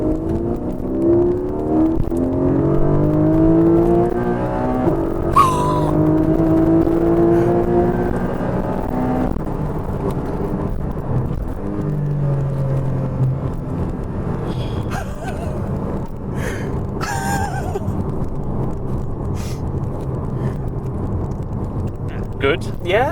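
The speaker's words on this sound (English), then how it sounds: "Just when you think you've got to the end of the revs, there are many more revs." A Porsche Boxster GTS engine revs and pulls through rising gears from inside the cabin, loud and continuous, with voices talking over it.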